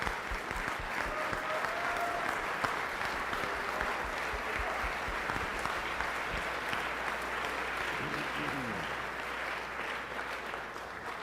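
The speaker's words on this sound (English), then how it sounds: "give this crowd of gentlemen a round of applause for coming in." A large crowd of young men at the Arkansas Boys State general assembly applauds steadily, dense clapping that fills the hall evenly for the whole stretch, with a faint murmur of voices underneath.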